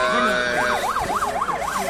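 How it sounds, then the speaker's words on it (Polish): An ambulance siren wails in repeated up-and-down cycles, faint and distant, rising in over earlier tones during a village firefighting sports competition. "dźwięki karetki, która próbuje tutaj e, do nas dojechać"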